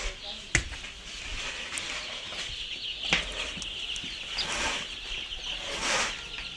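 Chickens cluck and call at a poultry farm, a steady brood noise with a few sharp squawks, partly under nearby talk.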